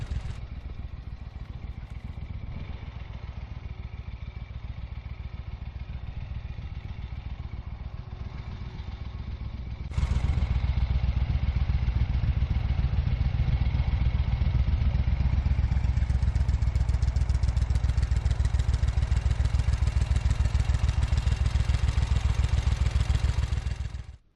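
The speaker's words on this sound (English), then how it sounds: "the quiet, mellifluous sound of the Eldorado gently idling in the background" A 1972 Moto Guzzi Eldorado motorcycle engine idles steadily with a low, even throb, growing louder partway through and holding a constant rumble until it cuts off.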